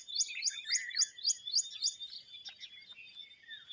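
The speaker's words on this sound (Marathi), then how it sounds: "पाखरं बी वाराडतात कुकुर कुकुर" Morning birdsong in a quiet rural setting: a small bird repeats a rapid run of bright, evenly spaced chirps, then trails off into looser, scattered tweets, fairly close and clear against near silence.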